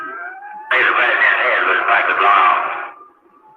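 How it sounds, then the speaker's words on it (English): A loud wailing siren swells in abruptly and holds for a couple of seconds before fading, with a faint radio-like voice beneath it. "Sirens can be heard."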